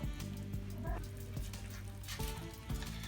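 Mutton liver sizzles and fries in a pan on a tawa, a soft continuous crackle with some hum, no voices.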